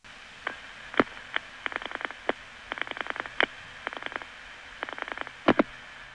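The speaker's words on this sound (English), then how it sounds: "that's the sound of an NX1 tandem dialing into one of its tributaries" Rapid bursts of mechanical clicks from an NX1 tandem telephone exchange dialing into one of its tributary offices, recorded on a 1977 call line: several quick trains of pulses separated by short pauses over a steady faint hiss.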